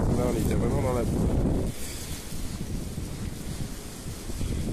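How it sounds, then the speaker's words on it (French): Wind gusts buffet a microphone outdoors on a cold, muddy day, a steady broadband roar throughout, with a voice briefly speaking over it at the start. "Toute la journée, le vent en plus."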